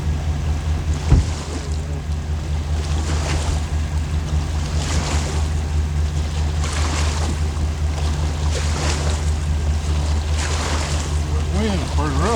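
Water lapping at a concrete-edged fishing spot in rough wind, a continuous wash of small waves with a low boat-like rumble and wind buffeting the microphone.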